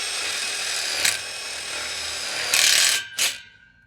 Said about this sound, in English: I like to start with drilling through this center hole first